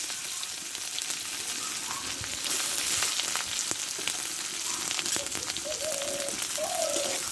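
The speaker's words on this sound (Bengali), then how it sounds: "দুটো মোটা সাইজের পেঁয়াজ কেটে নিয়েছিলাম আমি দিয়ে দেবো তেলে" Sliced onions hit hot mustard oil with dried red chillies and whole cumin, a loud continuous sizzle that grows stronger midway, with faint scraping and bird coos in the background.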